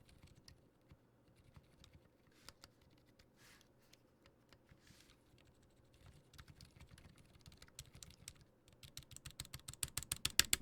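Fingers type on a mechanical keyboard's keycaps, with soft scattered clacks that build into a faster, louder run of keystrokes toward the end, close and without talk.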